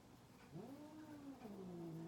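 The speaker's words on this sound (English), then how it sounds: "the cats are fighting" Cats fighting indoors, a single drawn-out caterwauling yowl that rises and slowly falls, close and fairly loud, with no talk over it.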